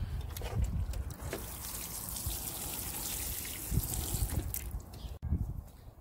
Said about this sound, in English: I'm just going to water them gently.